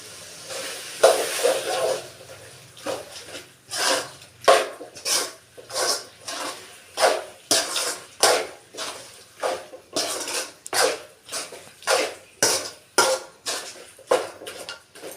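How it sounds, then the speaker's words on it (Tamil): Country chicken cooks in a metal pot with ground coriander and chili powder while a spoon stirs it. The spoon scrapes and clanks against the pot in a steady repeating rhythm of about a dozen strokes, close and loud. "ஆட் பண்ணிவிட்டு நல்லா கிளறி விட்டுக்கலாம்"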